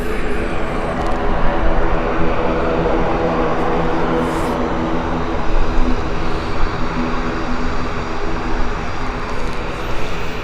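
An Eastern Airways ATR turboprop departs for Newquay at Gatwick, a steady loud propeller drone with tonal hum holding throughout, fairly near and alone.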